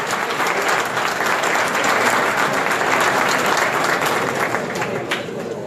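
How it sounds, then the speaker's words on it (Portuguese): Audience applause at a business federation congress, dense, loud, continuous clapping from a large crowd filling the room evenly from start to finish. "Uma salva de palmas para Pedro Henrique Braga."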